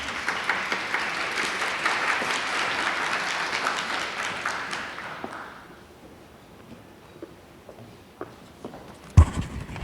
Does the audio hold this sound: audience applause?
yes